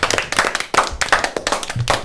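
A small group in a French primary classroom claps together, a short, close burst of uneven handclaps with a few sharper slaps, with no talking over it.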